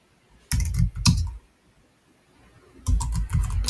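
Close, quick bursts of typing on a computer keyboard, with two flurries of clicks separated by a short pause, fairly loud and with no talking.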